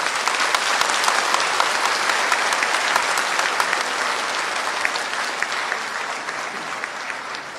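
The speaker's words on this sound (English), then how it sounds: "Let's give a big applause for them." A large audience claps steadily at a Social Business Day event in Dhaka, dense and sustained applause that eases slightly toward the end, with no talking over it.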